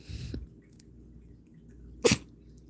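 A cat gives a single short, sharp sneeze near the end, close by, after a brief soft snuffling sound in a quiet room.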